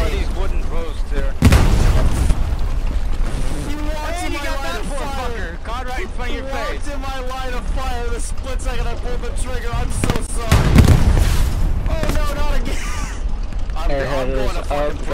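Tank gun firing in a video game, two heavy booms spaced several seconds apart under near-constant excited talk among players.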